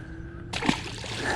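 A largemouth bass is let go back into the water, a sudden close splash and slosh that breaks in halfway through over quiet outdoor background.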